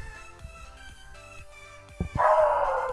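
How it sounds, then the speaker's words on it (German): A dog gives a couple of quick, loud barks, then a sustained higher whine or yelp carries on near the mic over quiet game background sounds. "jetzt wird der Hund ein bisschen lauter"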